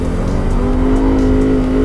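A 2015 Lexus RC F is driven hard on a racetrack with all driver aids switched off. Its engine holds a steady, loud drone from close by, with a faint hint of tire noise and no speech.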